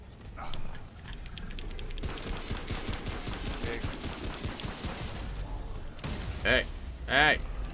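Rapid sustained gunfire from a boss fight in the video game Remnant: From the Ashes, a dense loud fusillade of shots aimed at the boss's feet, with voices talking over parts of it.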